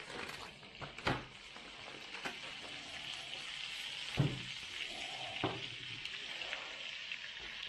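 A good knob of butter sizzling in a wok, a soft steady hiss with a few clanks and scrapes of utensils against the pan.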